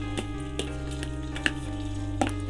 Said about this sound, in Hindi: इसमें हम लोग सबसे पहले प्याज डालेंगे, प्याज को ब्राउन करेंगे।